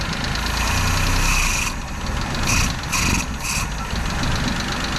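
A Japanese Hijet mini truck with a new carburetor and distributor troubles idles loudly and close by, a rough, steady engine drone with slight surges and dips.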